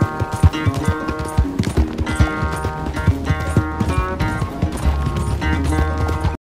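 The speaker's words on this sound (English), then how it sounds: "that is a good-looking horse" Missouri Fox Trotter horse in Red Dead Online: rhythmic hoofbeat clip-clops ring loudly and close alongside whinnying, over a continuous game sound bed, before cutting off abruptly.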